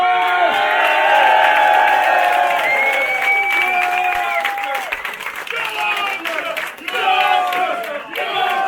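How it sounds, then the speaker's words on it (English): Crowd at the Two Ball Rally 2019 presentation claps and cheers loudly and steadily, with whoops and shouts over a dense wash of applause and voices mixed throughout. "Big round of applause!"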